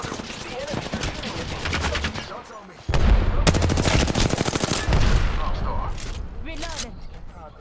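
Gunfire in the video game Apex Legends, rapid automatic bursts close and loud in two sustained volleys, with a player talking over it.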